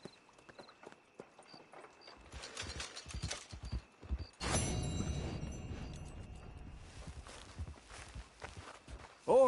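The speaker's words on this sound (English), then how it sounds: "Horse." Horse hooves clip-clop at a walk in a Western open-world game, a loose rhythmic string of hoofbeats with gear rattle, rising into a louder flurry of steps midway before easing back, with a brief voice at the very end.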